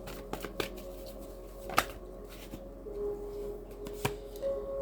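Tarot cards being shuffled by hand, a few short riffling and slapping bursts with one sharper snap, close and fairly quiet, with a faint steady tone underneath and no talk.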